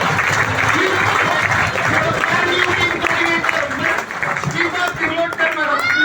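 Sustained applause from a crowd at a company recognition event in India, dense steady clapping filling the room, with a few voices faintly mixed in.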